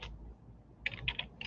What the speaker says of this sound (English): So I'm like typing